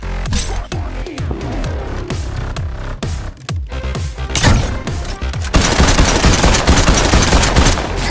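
Rapid rifle gunfire from the Fortnite video game, with dense automatic bursts and overlapping shots that build into a loud, continuous barrage mixed with game effects.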